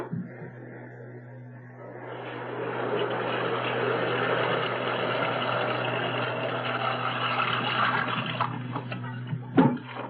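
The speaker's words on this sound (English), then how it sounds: "I'm going to boil some water and fill the tub." Water rushes steadily from a tap to fill a bathtub, the flow rising in and holding for several seconds over a low hum, with a knock near the end in an old radio drama.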